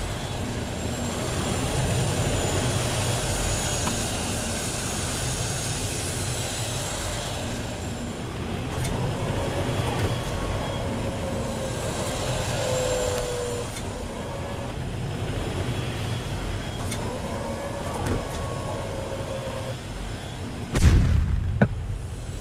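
Incoming missiles in a virtual reality city scenario: sustained low rumbling roar with whooshing passes and drifting tonal whines, building and fading over time, then a sharp loud impact near the end.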